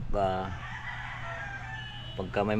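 A chicken being prepared for slaughter clucks and squawks up close, loud strained calls at the start and end with a quieter gap between, over background voices.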